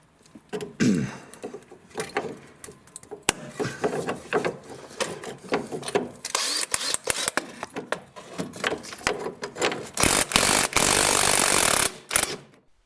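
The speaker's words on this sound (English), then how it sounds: "I'm going to crimp vice grips on it, and then we'll see if we can turn the nut the rest of the way off." Vice grips clamped onto a strut stabilizer link stud during front strut removal on a 2007 Chevy Equinox: repeated metallic clicks, ratcheting and scraping come in irregular bursts, close and fairly loud, ending in a rough grinding stretch, with no voices.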